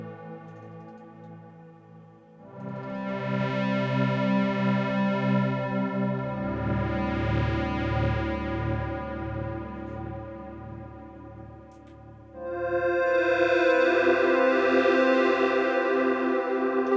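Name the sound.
reverb and chorus effect on ZOIA and Microfreak synth signal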